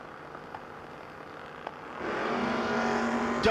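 Drag racing launch at a no-box 660 shootout: a 3rd gen Camaro and a first-year 1st gen Camaro, faint at first, then engines surge into a loud, sustained roar midway through.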